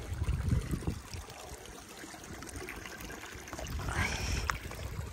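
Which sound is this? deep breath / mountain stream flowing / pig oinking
mountain stream flowing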